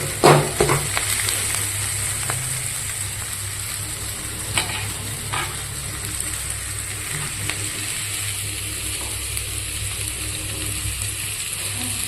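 Pepper chicken with onion and coriander sautéing in a pan, giving a steady, close sizzle with occasional stirring scrapes across the whole stretch, no voices.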